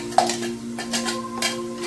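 Onions sautéing in a pot for chicken biryani, a short soft sizzle with a few light scrapes and taps of a spoon against the pot over a steady low hum.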